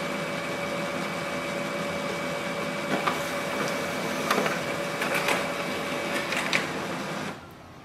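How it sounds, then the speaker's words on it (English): A Brother MFC-L2730DW laser printer prints a document over Wi-Fi, a steady mechanical hum with paper-feed clicks and rollers whirring, close by, then stopping abruptly near the end. "So it is printing with the inbuilt Wi-Fi."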